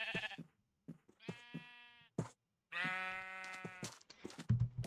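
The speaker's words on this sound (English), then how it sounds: "Look at this other sheep." Sheep bleat in several separate calls, two long wavering ones among shorter sounds, close but fairly quiet, with brief pauses between.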